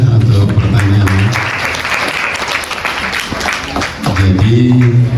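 An audience at a live Maulid Nabi discussion bursts into loud, dense applause after a question, with speech heard at the start and again as the clapping fades.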